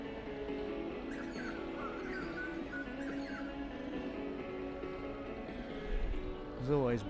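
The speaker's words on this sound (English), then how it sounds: "I've got the butcher birds singing around me in the trees" Butcher birds sing from trees near Main Beach on the Gold Coast, their brief melodic chirps and warbles rising over a steady wash of outdoor background noise at moderate distance.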